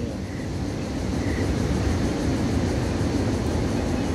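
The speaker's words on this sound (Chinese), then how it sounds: "ATR-700 型螺桨客机" A Uni Air ATR 72-600 turboprop airliner descends to land at Taipei Songshan Airport, heard from a park as a steady, broad roar of engine and propeller noise that holds loud throughout with no talk.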